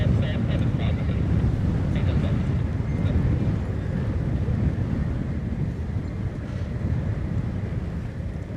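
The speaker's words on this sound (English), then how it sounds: "That sounds like an old prop coming out." An old propeller-driven tail-dragger aircraft approaches near an RAF airfield, its engine a steady broadband drone under heavy wind noise on the microphone, sustained and fairly loud throughout without obvious peaks.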